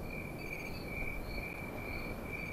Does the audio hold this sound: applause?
no